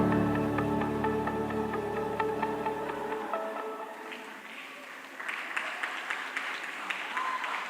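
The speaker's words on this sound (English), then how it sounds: "A round of applause, please." Audience applause at the Evolve 2025 tech summit, a sustained wash of many hands clapping that holds steady, with music fading out beneath it early on.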